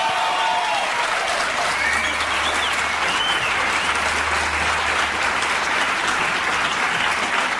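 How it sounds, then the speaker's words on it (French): A TV studio audience applauding guest Chantal Lauby, sustained loud dense clapping throughout with a low hum underneath and faint voices mixed in. "Oui, on peut l'applaudir."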